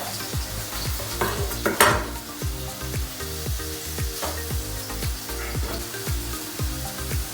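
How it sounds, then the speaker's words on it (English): Tofu frying in oil in a pan, a steady close sizzle with stirring scrapes and occasional utensil knocks across the whole stretch, with no talking. "I'm gonna fry the tofu first, and make sure the oil is not too hot and also not too warm"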